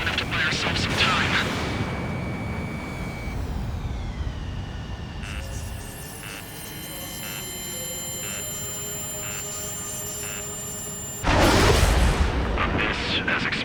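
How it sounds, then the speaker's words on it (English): A railgun firing in the combat flight game Ace Combat 7: a rising electronic whine gives way to a sharp repeating energy pulse, several even beats over a tonal hum, then a loud blast, all amid jet and battle noise. "Some kind of energy weapon. No, it's a railgun."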